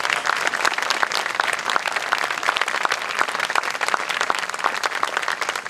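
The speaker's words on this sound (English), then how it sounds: "let's give her a big round of applause" Dense, sustained applause from an audience at a community event before a choir performance, many hands clapping at once in a continuous, even roar from start to finish.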